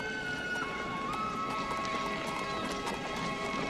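Horse hooves clip-clop steadily at a walking pace in a western film scene, soft repeated clops set against a constant hissy background with a faint tonal hum.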